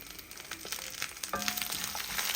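Mustard and other tempering spices hit hot oil with peanuts and split chana dal for raw mango pulihora, giving a brief, quiet crackling sizzle with a few sharp pops, close and steady.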